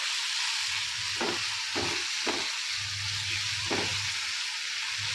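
Fresh garlic is stirred into a hot frying pan along with onions and tomatoes, a steady close sizzle broken by several soft scraping strokes of the spoon and a low hum beneath.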